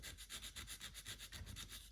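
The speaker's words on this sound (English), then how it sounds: "Now I'm just using 120 and settling in for a lot of sanding." Rhythmic back-and-forth rasping of 120-grit sandpaper on a wooden carved duck body, about eight quick strokes a second, close and fairly quiet.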